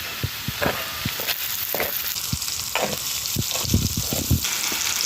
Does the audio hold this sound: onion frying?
yes